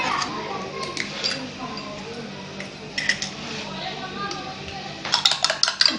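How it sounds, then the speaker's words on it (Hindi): Two eggs are whisked in a bowl, producing scattered light clinks and taps that grow busier and quicker toward the end, with someone speaking throughout. "अच्छे से हम अंडे फेंट लेंगे"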